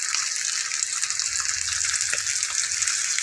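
A fresh pork chop sizzles over a burner, giving a steady, close, hissing fry with faint pops and no talking.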